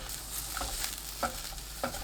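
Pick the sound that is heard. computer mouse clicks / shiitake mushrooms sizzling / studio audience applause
shiitake mushrooms sizzling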